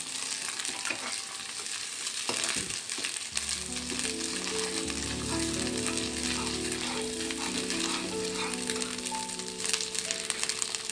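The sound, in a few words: frying curry masala in a pan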